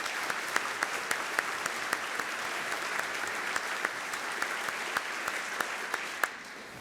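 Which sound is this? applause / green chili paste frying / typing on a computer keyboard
applause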